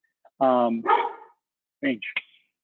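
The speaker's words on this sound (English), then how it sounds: "mind my dog, sorry guys." A dog barks close by indoors, one long yelping bark followed by a quick pair of shorter barks, in an otherwise quiet room.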